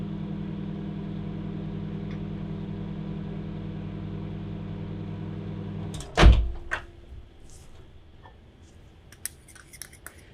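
A microwave oven heating agar gel solution hums steadily for about six seconds, then stops with a loud clunk, followed by quiet clicks and small knocks.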